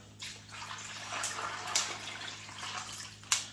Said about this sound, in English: now that I've added the ice to the bowl, I'm going to top it off with some water